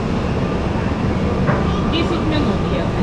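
Train setting off from an Italian station bound for Venice, a steady rail rumble with faint squeals and rattles throughout, with voices faintly present in the background.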